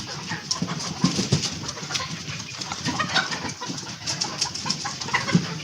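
Laying Fayoumi hens clucking and murmuring close by, a busy overlapping chatter of birds with no talking.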